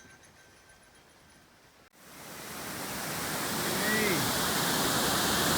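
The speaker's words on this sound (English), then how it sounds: "we just walked the portage on Muskego Falls. Here's the third falls." Muskego Falls on a river in the Temagami wilderness roars as a broad, steady rush of water that swells in and grows louder after a quiet start. One brief voice sounds just before the roar.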